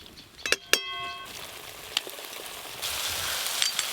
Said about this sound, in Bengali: মশলার পেস্ট, এবার খুব ভালো করে একসঙ্গে সব কিছু কষিয়ে নেব।